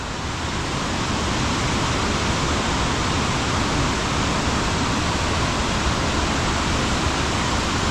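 A tributary waterfall drops into a creek at Stitt Falls in Tasmania, giving a steady, dense roar of falling water that stays even and close with no other sounds.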